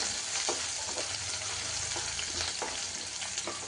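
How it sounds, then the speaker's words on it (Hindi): Onions fry lightly in a pan with a steady, close sizzle and crackle, joined by a few soft stirring scrapes and no voices. "ये डल गई है मेरी आल की प्याज। हल्का सा फ्राई करेंगे।"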